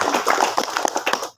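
Brief applause at a religious sermon gathering, a scatter of close, distinct hand claps over a second or so that quickly thins out and stops.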